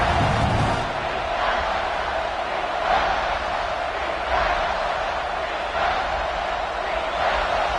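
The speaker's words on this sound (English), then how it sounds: "the crowd coming to life here, trying to help this defense down in the red zone" Football stadium crowd roaring steadily as the home defense faces a red zone third down in a Notre Dame versus Clemson game, a dense loud wash of cheering that swells in waves, with commentary voices underneath.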